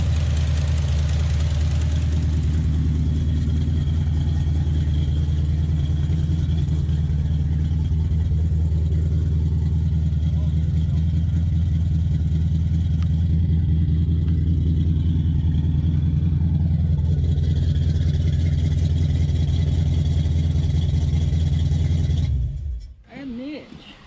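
Dodge D100 with a big block tunnel ram engine idling loudly with a header leak, deep steady lumpy rumble close up for over twenty seconds before cutting off abruptly.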